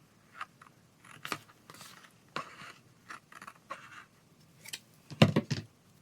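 Scissors or a craft blade trimming a small excess sliver of paper at the edge of a creative journal page, a few short, soft snipping and scratching sounds near and quiet, with no talk.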